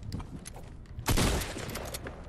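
Gunfire in the Fortnite battle royale game, a sudden loud burst of rapid shots after low background noise, then trailing off into a sustained rumble.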